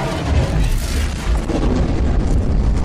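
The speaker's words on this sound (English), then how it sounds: "Whoa, that was awesome. The explosion." A video-game explosion in Crysis 3 fills the scene as a loud, dense, continuous rumble and roar, with heavy low booms churning throughout and no clear break.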